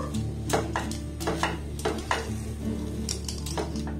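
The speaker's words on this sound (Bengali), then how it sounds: "এবার এটাকে কন্টিনিউ এইভাবে নাড়াচাড়া করে একটু মাখো মাখো করে নেব।" A spoon stirs semolina barfi mixture made without sugar in a pan, with repeated scraping and clinking against the metal at an uneven rhythm over a steady low hum, close by.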